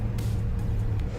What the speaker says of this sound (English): This is the Cadillac CT5V.